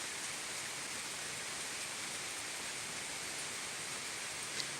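Rain falling outdoors at a rail location in Thurmond, West Virginia, a faint, steady hiss of drops with no distinct rhythm, continuous and unbroken.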